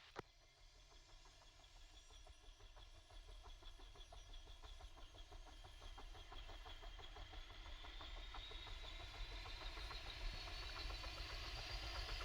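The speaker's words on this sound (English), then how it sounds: "Copy, engines rotating." Aircraft engines spin up in a military flight game, a steady mechanical hum with a rising whine that builds gradually louder over a dozen seconds, no talk.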